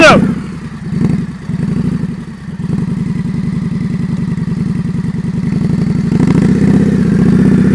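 A motorcycle engine idles and putters close by during advanced slow-speed riding practice in Maryland, with uneven throttle blips early, then a steady low chug that swells slightly toward the end, with a voice talking over it.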